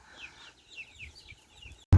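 Flock of young roosters and hens clucking and peeping at close range, a busy run of short, high calls that ends in a sudden loud thump near the microphone.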